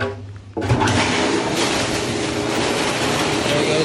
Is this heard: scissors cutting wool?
no